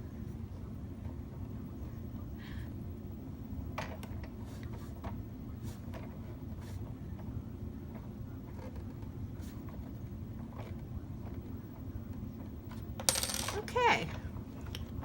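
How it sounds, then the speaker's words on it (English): Small metallic clicks and taps come from an Allen wrench tightening a Sizzix Big Kick die-cutting machine, scattered over a steady low hum, with a brief louder rattle near the end. "let's use this Allen wrench"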